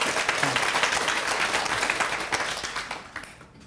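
Listeners at a Buddhist sutra lecture on the Avatamsaka Sutra at Da Hua Yan Temple break into dense, loud applause. The clapping holds steady and full, then thins and fades toward the end.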